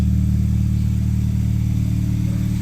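Toyota Corolla AE101 engine fitted with a chambered muffler, idling with a loud, steady low rumble and close exhaust throb.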